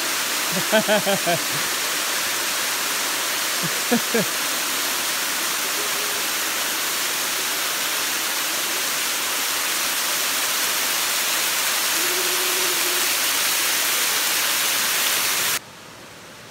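Steady rushing water fills the scene, a broad continuous wash like a fast creek, with brief voices breaking through early on.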